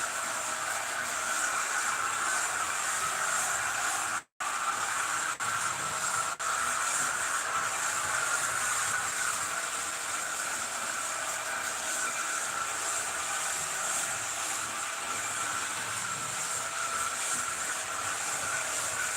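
A solid-metal Märklin HO model train running fast: a fast, steady mechanical whir with a bright hiss on top, running continuously, broken only by a brief dropout near the start.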